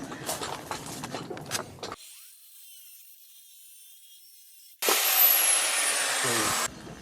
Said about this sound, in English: gonna go at it on the angle grinder